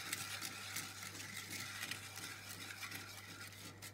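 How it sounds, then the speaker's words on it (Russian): A whisk stirs a cream sauce thickening in a pan over low heat, a faint, continuous scraping and swishing with a low background hum and no talk. "Все хорошенько перемешиваю вентиком, чтобы все хорошо соединилось."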